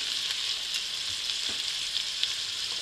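Filet medallions fry in butter while being basted with rosemary, a steady close sizzle with faint scattered pops and light clinks of tongs.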